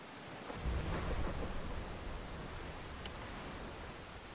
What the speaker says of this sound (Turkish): ne yapayım fırtına başladıysa?